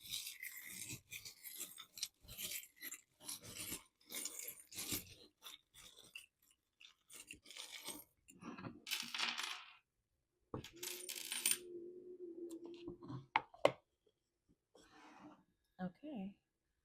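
Small metal charms rattle and clink together in rapid jingling bursts for many seconds, loud and close, with a brief pause and a low voice speaking partway through.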